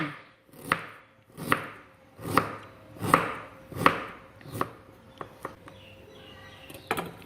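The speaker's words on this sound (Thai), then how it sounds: "ขิงปอกแล้วหั่นให้ได้ 30 กรัมนะคะ" A knife chopping peeled ginger on a cutting board, with about seven evenly spaced firm chops followed by lighter, quicker taps near the end, close and clear with no talk.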